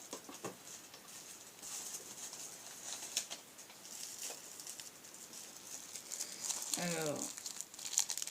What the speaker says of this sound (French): Ah, sinon j'ai l'espèce de papier de soie.